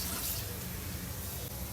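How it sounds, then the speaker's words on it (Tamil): Water is poured steadily into a glass in a kitchen while making mutton soup, a short, quiet, continuous stream of liquid with no voices. "இந்த கிளாஸில் ஒரு 3 கிளாஸ் தண்ணி ஊற்றுறேன்."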